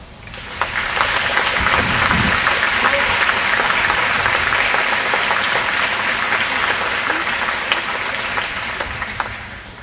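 An indoor audience welcomes Professor Arndt with sustained applause. Dense clapping starts after a brief pause and holds steady before tapering slightly at the end.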